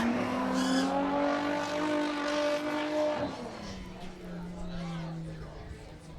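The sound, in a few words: V8 race cars on a dirt track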